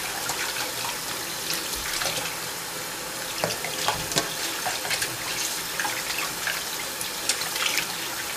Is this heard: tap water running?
yes